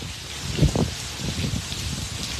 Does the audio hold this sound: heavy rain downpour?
yes